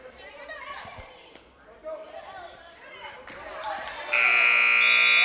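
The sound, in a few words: end-of-game buzzer in basketball gym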